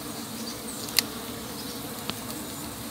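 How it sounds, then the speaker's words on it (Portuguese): Swarm of bees in a hive fed with mixed wax, giving a steady close buzzing hum throughout with one or two faint clicks. "Olha que enxame sensacional."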